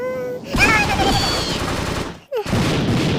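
Cartoonish gunfire in the Mini Militia mobile shooter game, a dense burst of rapid shots and effects with a short gap near the end before firing resumes, loud and close.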